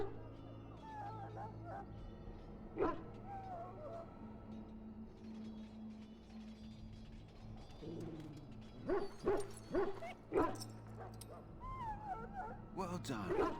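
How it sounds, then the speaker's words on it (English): Wounded dog in the Dragon Age Origins video game, giving faint whimpers and whines, then a few short louder yelps, while people talk over it. "Now I can treat the dog properly, poor fella."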